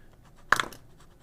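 A scratchy Lotus Agni fountain pen nib drags across paper in a single short, close scratching stroke lasting about a quarter second, set against near silence.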